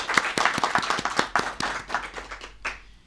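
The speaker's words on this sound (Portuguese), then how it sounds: "Vamos aplaudir o Senhor Jesus?" A church congregation claps in a quick, even rhythm, sharp close hand claps repeating for a few seconds before thinning out and fading at the end.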